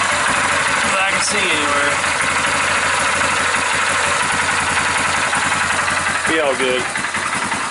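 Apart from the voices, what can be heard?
2001 Yamaha Kodiak ATV engine running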